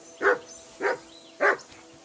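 A dog barks three times at an even, unhurried pace in Kingdom Come Deliverance 2, with each bark loud and close over a faint background hum.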